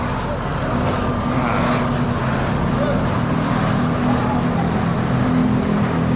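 ANS intercity buses at the Pondok Pinang Lebak Bulus terminal rumble nearby with a steady, loud engine drone under general traffic noise, holding constant throughout.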